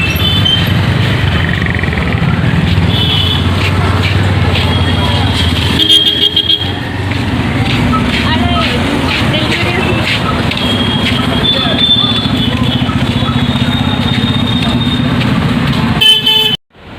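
Busy road traffic in a jam, with car horns tooting repeatedly over a dense, steady rumble of engines; voices talk nearby throughout.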